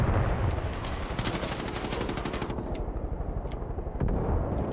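Rapid automatic gunfire in the Far Cry 5 video game hammers out in a loud, sustained burst of close shots, with scattered further shots and a harsh noisy background and no speech.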